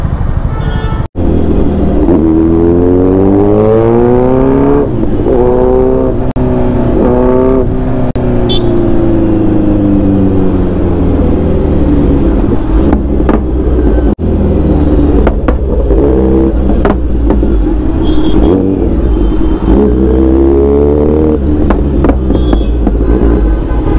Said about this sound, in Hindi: भाई क्रैकल सुनो बाइक में से, भाई क्या पटाखे फट रहे